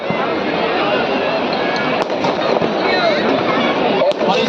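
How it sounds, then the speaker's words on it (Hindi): Fireworks burst and crackle over a Dussehra Ravan Dahan festival crowd, with sharp pops near the two- and four-second marks over a dense, loud wash of crackling and crowd noise, and voices mixed in. "और इसमें देखिए आप ये आतिशबाजी का नजारा भी शुरू हो चुका है"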